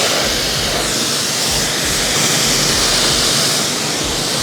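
A steady, loud hiss of water spraying onto a car tire and wheel during detailing, continuous and broadband with no pauses.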